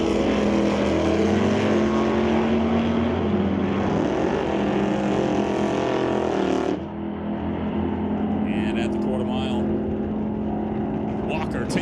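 A 1968 Acadian and a Chevy II drag racing down the strip, engines droning loudly and steadily from a distance, the roar dropping away partway through while a voice talks over it.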